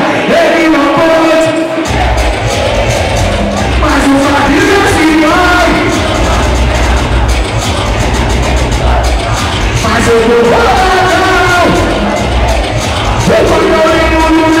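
A dense crowd at a baile funk party in Belo Horizonte shouts and yells continuously, loud and close, with voices whooping over a thick wall of noise and thumping low-end for the whole stretch.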